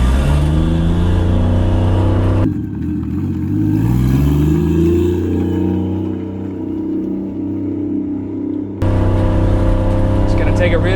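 A Chevy Nova with a swapped-in 1JZ engine on its first test drive, heard from inside as the engine idles loudly, then revs through rising and falling pitch sweeps before settling back, with a voice speaking over it.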